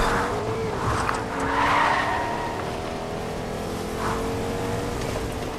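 Car engine and skidding tires in the Fortnite video game, with a steady engine drone broken by squealing tire slides, loud and close throughout.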